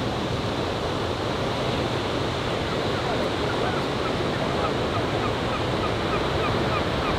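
Cold New England ocean surf washing onto the shore, a steady broadband roar of waves with wind noise across the microphone, continuous and fairly loud throughout with no clear breaks between swells.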